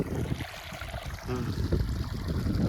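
Irrigation water runs through a tomato field, a continuous rushing, gurgling flow heard up close, with a faint voice briefly in the background.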